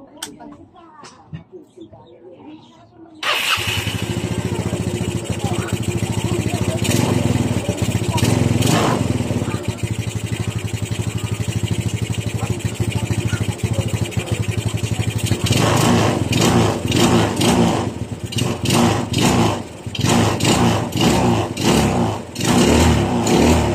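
Yamaha Mio scooter with a stock engine and a newly fitted 28mm roundslide carburetor starts after a moment of talk, then idles loudly and revs repeatedly up close in sharp, uneven bursts.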